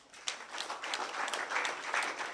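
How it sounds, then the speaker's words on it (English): Audience clapping at an African literature gathering, a steady patter of many hands sustained for a couple of seconds, fairly faint and somewhat distant with no voices over it. "Clap for that."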